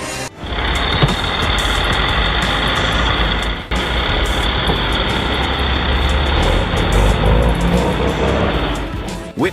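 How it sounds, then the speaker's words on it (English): DAF CF-85 truck engine running loud and steady nearby, a dense continuous rumble with a brief dip partway through before resuming at full strength. "Witness the DAF CF-85 in action, a robust machine equipped with an engine that conquers all terrains."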